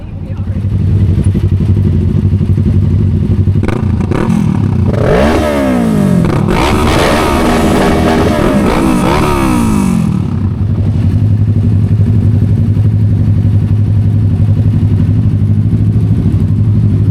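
A motorcycle engine on the road, a steady low drone rising and falling as the throttle is rolled on and off, with rapid pitch sweeps in the middle and a voice talking over the ride.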